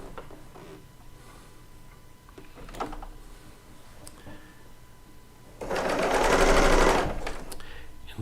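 A serger sewing machine stitches quilt pieces together, with faint handling and clicks at first, then a loud, dense burst of rapid stitching for about a second and a half that tapers off.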